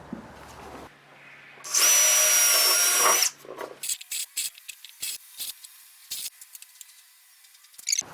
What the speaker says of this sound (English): I'm step drilling again